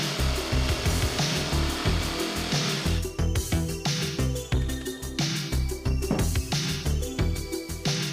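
Power saw cutting bathroom wall panels to size, a close, rough buzzing cut repeated in quick strokes with short pauses and rhythmic pulsing, no voices.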